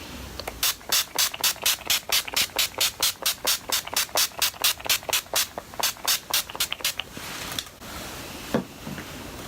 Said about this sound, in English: So let's go in with our all-nighter spray.